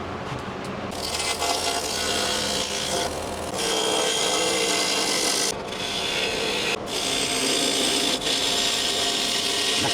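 Woodturning tool cutting a wood blank on a lathe while shaping a tenon for a lidded rice bowl, a steady broadband scraping rasp that runs continuously, close and loud, with a few brief dips where the tool lifts off.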